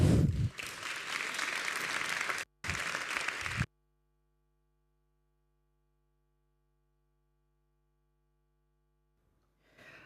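Audience applause welcoming an architect and an artist to a talk, loud steady clapping with a brief break, stopping abruptly into silence before faint rustling at the end.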